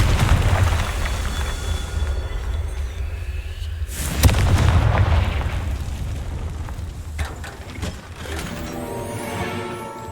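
Confringo fire spell in Hogwarts Legacy bursting into a sharp, loud explosion midway, set against a steady rumbling game soundscape with mechanical clatter following the blast.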